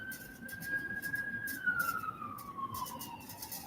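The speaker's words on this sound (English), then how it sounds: "look, sirens, police" A police siren wails steadily in the distance, its pitch sliding slowly downward over a noisy background rumble.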